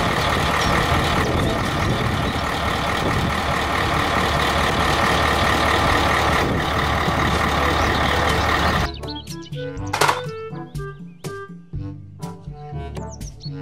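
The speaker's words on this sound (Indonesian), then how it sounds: "Mobil, dam truk." Toy dump truck running with a continuous motor whir and rhythmic reversing beeps, then the drone cuts out, leaving sparse clicks, clatter and chirpy electronic tones.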